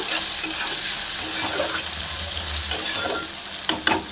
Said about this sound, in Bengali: তার মধ্যে দিয়ে দিচ্ছি আলু। এবার একটু নাড়িয়ে নেব।